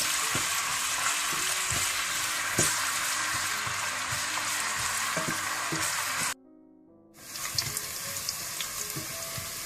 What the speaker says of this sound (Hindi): इसमें प्याज डाल दें कटे हुए। और इनको हल्का गोल्डन ब्राउन कर लें।